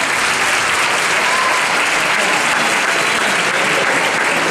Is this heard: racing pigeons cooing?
no